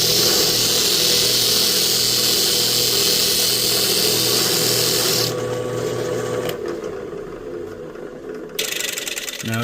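An east Indian rosewood bridge blank for a 12-string guitar is pressed against a sanding disc, giving a steady, loud abrasive whir that cuts off abruptly partway through, leaving a quieter motor hum and a brief final burst.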